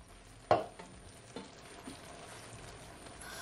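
Cornstarch slurry poured into a pan of sizzling seafood chow mein, marked by one sharp splash and hiss followed by a few softer stirring scrapes over a low, steady sizzle.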